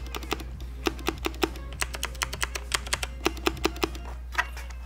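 Fingers type on a mechanical keyboard fitted with box clicky switches, an irregular run of sharp close clicks, some quick bursts and some single taps, over a low steady hum.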